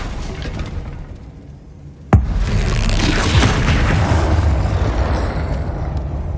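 A Bombarda blasting spell goes off in Hogwarts Legacy: one sudden loud boom, followed by a sustained, roaring rumble that fills the rest of the moment.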